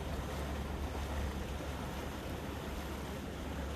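A sailboat glides under wind power at about two knots on a calm stretch of sea, with a constant near rush of wind, water and hull noise and no speech.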